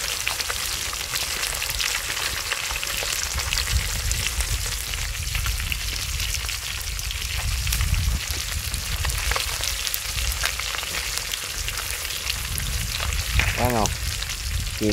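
Two large chunks of fish fry in a pot of oil, a dense continuous crackling sizzle with scattered pops, steady and close throughout.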